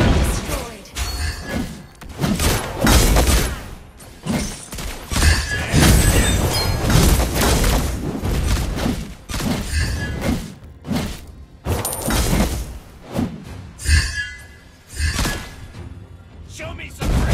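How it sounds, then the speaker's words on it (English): Turret destruction in the Mobile Legends mobile game: repeated heavy thuds, crashes and shattering bursts in dense, loud battle audio, with a voice talking over much of it. "Our turret has been destroyed."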